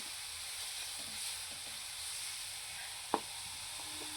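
A faint, steady sizzle and hiss as Kashmiri red chili powder and turmeric cook in a frying pan, with one sharp tap of a utensil near the end and no speech.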